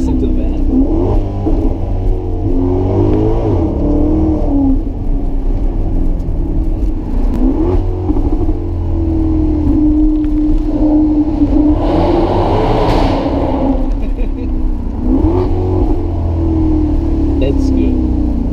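A Maserati GranCabrio MC Stradale engine revs hard through repeated downshifts, with pitch swinging up and down in several loud, close blips over a steady drone from inside the car.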